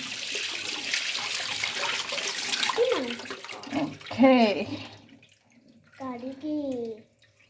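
Water gushes steadily into a tub used for washing new cooking pots, a broad rushing stream that fades out, followed by short bursts of conversation between an adult and a child.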